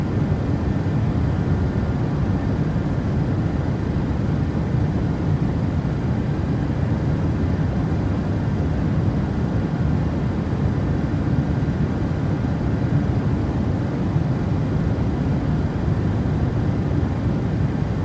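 PMDG 737-700 airliner in Microsoft Flight Simulator on departure, a steady loud broadband jet engine roar with deep rumble, continuous and unchanging throughout, no voices.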